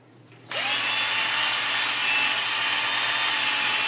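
A power drill starts abruptly and runs at steady high speed, mixing two-part liquid rubber for RC car tires, a loud continuous whirring whine close by after a brief quiet moment.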